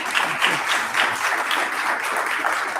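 A large seated audience at a civic leadership event applauds its speakers, a sustained even wash of many hands clapping, moderately loud and steady with small swells, no voices over it.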